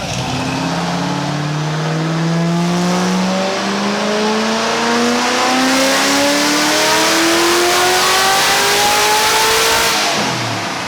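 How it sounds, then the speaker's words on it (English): A Procharger-supercharged 427 engine in a D1-X convertible roars on a dyno pull, its loud, continuous rev climbing steadily in pitch for the whole stretch with no talking. "It's funny hearing a Procharger on these because it's so much louder than the A&M."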